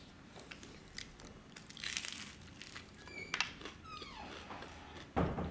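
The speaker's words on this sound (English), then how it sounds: "That crunch is so loud." Biting into a crunchy fried Honduran enchilada gives close, crisp crackling and crunching in short irregular bursts, with a louder crunch near the end and faint mouth and handling noises between.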